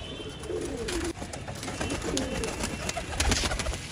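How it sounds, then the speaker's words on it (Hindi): Pigeons at a pigeon flying tournament coo in low repeated throaty phrases over steady outdoor noise, with rustling and scattered sharp sounds nearby. "ये आ रहा है दोस्तों कबूतर"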